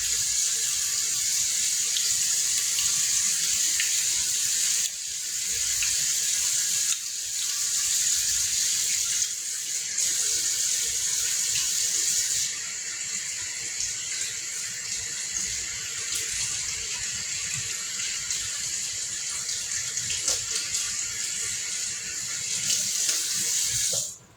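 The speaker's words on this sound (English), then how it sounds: "You gotta give me time to be able to get that water going." A bathroom tap runs steadily for hand washing, water streaming loudly and continuously into a sink, with brief shifts in flow and no talk.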